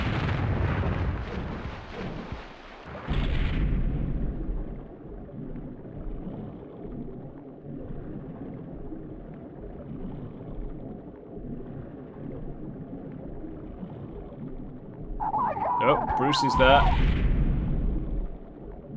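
Explosions from naval mines and boats in the shark game Jaws Unleashed: deep booming rumbles roll through the whole stretch, the loudest bursts near the start and the end, while someone talks over them.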